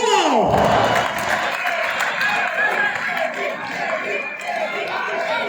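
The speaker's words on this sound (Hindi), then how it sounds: "जोरदार तालियां इस फाइट के लिए हो जाए।" Spectators at a volleyball match between Pakistan Army and Pakistan Navy in Islamabad's Pakistan Sports Complex cheer and clap loudly and steadily, a dense crowd roar with shouts that carries on without a break.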